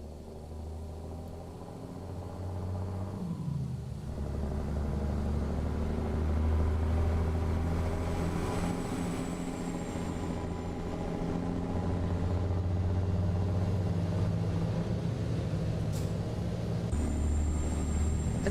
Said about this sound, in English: Just listen to the way this truck sounds as it moves closer to the camera.